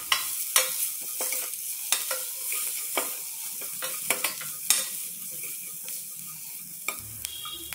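Onions with a pinch of turmeric being stirred in a pan for green moong usal, with a soft sizzle under repeated spatula scrapes and clinks at an irregular pace, fairly close.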